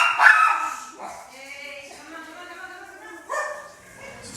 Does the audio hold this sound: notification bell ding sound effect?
no